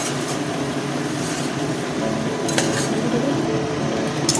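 Spice paste stirred into peas and potatoes in a cooking pot for spicy-tangy ghugni: continuous close scraping with occasional metallic clinks of the spoon against the pot, loud and unbroken throughout.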